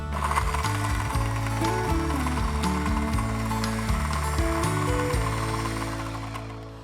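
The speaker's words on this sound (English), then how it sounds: "I'll blitz this on quite a high speed until we get that slurpy texture that we're looking for" Blender running at high speed on frozen berries, with a loud continuous mechanical grinding and rattling whose pitch shifts repeatedly as the fruit chunks churn, close and alone throughout.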